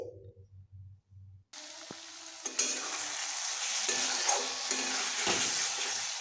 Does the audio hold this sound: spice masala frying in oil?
yes